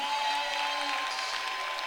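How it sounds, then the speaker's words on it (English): Applause greeting a player named Jaquez at a high school boys basketball game, Prior Lake versus Shakopee. A steady wash of clapping in a gym fills the whole brief moment at moderate volume, with no distinct voices rising above it. "He gets like a big round of applause"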